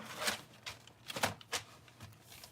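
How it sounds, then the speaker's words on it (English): Keys on a computer keyboard tapped in a few quick, soft clusters of clicks, close and quiet, with no voices. "We're typing right now, doing some schoolwork."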